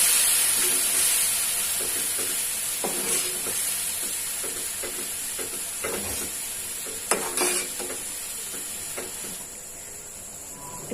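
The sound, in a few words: vinegar boiling in a pan for chicken pickle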